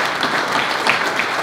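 Dense, washy applause from a crowd greeting a boxer, a French national and European title champion, heard as a continuous loud patter of many hands with no distinct individual claps.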